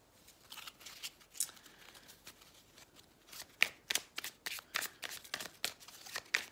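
Oracle message cards are shuffled and drawn, with a run of quick papery flicks and slaps that grows busier and louder in the second half, close by with no talking.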